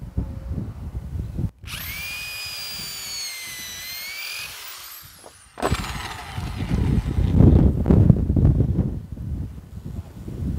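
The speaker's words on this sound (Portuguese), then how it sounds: "Furo mesmo no meio do caibo." A power drill bores a hole through a wooden roof rafter on a concrete-tile roof job, a close, loud whining burst that rises in pitch, cuts out, then resumes rougher and grinding as the bit chews through the wood.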